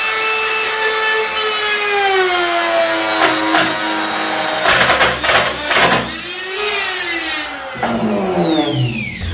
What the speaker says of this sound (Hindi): वुड ट्रिमर मशीन अच्छा खासा पुशबैक करती है, मतलब झटका देती है।